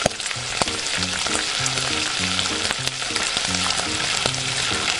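Masala with cashew paste and garam masala frying over a flame, a steady loud sizzle running throughout with a spoon stirring and scraping at an even pace, while a quiet melody plays underneath.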